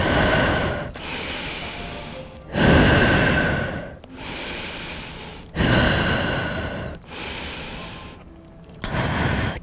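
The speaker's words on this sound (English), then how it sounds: "Ujjayi breaths." Loud, close ujjayi yoga breathing during a flowing sequence, long rasping inhales and exhales alternating in a slow steady rhythm with short pauses between, no talk.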